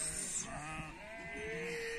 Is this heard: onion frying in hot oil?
no